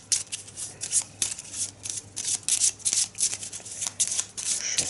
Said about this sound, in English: Shuffle it and